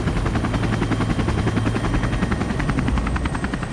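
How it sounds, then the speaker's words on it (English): A mountain rescue helicopter flies during an avalanche search in the Tetons near Jackson Hole, its rotor thudding loud, close and continuous with a rapid chopping beat. "In the heli is spotter Chris Lee."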